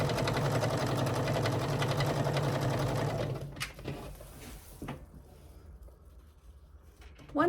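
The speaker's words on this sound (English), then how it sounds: "So we're going to take this to the sewing machine. We are going to sew a 1/4 inch seam all the way down this side" Sewing machine stitching a 1/4 inch seam, a steady loud motor whir with rapid needle rhythm for about three seconds, then it stops, leaving quiet handling clicks and faint rustle.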